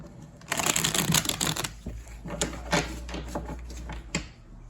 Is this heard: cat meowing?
no